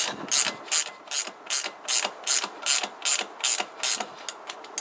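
Ratchet clicking in rapid bursts while tightening a bolt on a Kawasaki GPZ500S motorcycle, about ten close, loud, evenly spaced strokes with brief pauses between, with no talking.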